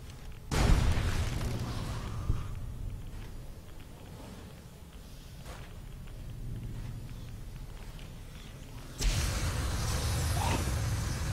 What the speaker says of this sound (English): I'm throwing a plasma grenade in there.